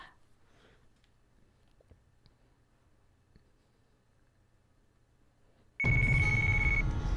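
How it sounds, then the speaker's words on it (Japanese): A phone starts ringing loudly in the video game Yakuza Kiwami, a sudden steady electronic ring near the end after a long stretch of near silence. "キヨちゃん、電話でよ"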